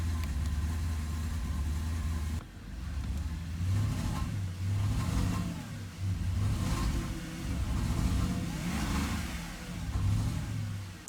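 Porsche Panamera engine running rough from a failing high-pressure fuel pump, idling unevenly close by with repeated surging revs and a wavering, loud drone and no talk.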